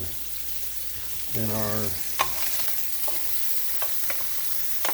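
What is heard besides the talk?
chopped garlic and onions frying in a pan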